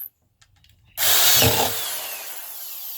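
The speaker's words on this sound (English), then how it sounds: "The key is keeping the drill straight" A power drill bores holes at close range, starting abruptly after a quiet moment and running loud and steady for about two seconds with a slight drop in pitch as the bit bites.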